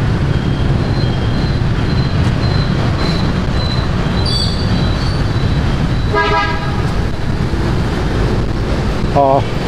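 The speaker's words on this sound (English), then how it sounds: "And you constantly hear horns." Horns honk now and then over a steady roar of busy street traffic in Ho Chi Minh City, one longer blast standing out midway and a short toot near the end.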